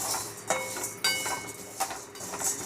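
A spoon clinks and scrapes against a pan as chana dal is stirred while dry-roasting, with a few quiet, irregular metallic taps over soft rustling.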